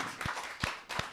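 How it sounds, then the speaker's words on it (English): A live Christmas-special audience claps in a sparse, quiet patter, with a few soft hand claps spaced through a low room murmur. "So Round of applause to Webby for the."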